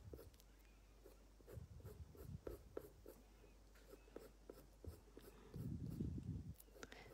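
A colored pencil scratches across paper in short, repeated strokes while drawing hair, close and faint, with a busier patch of rapid scribbling near the end.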